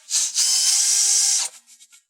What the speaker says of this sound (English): I'm going to go ahead and pre-drill the hole for the screw that goes into these pulls.